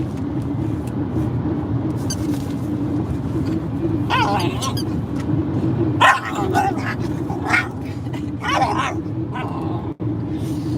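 A dog growls low and steadily throughout, a continuous rumbling snarl close by, with a few sharper vocal bursts and bark-like yips breaking in over the top.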